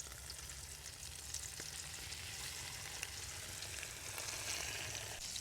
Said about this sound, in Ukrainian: в добре розігріту пательню кладемо наших карасиків